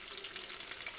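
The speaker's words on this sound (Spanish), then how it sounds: "ahí lo estoy friendo" Breaded chicken breast, seasoned with salt, garlic, pepper and lime, fries in a pan with a steady close hiss and crackle of oil, brief and without talk.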